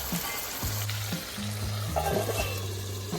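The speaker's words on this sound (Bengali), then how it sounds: "মাংসটা কষতে কষতে দেখো অনেকটা তেল ছাড়ছে" Chicken in yogurt masala sizzling in oil for Hyderabadi masala chicken, a close, continuous crackling hiss with soft stirring scrapes and faint tonal hum beneath.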